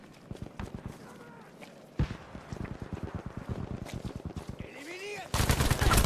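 Rapid gunfire crackles through a Battlefield 5 match, bursts of automatic shots and single cracks spread across the scene at moderate distance, with other game sounds mixed in and a louder burst near the end.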